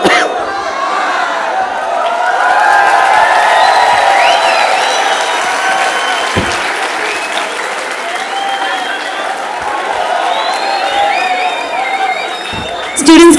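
Loud, sustained applause and cheering from a crowd of students at a hospitality convention for a chef after a cooking demonstration, with whoops and shouts over the clapping throughout.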